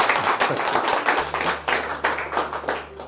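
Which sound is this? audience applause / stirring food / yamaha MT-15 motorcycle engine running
audience applause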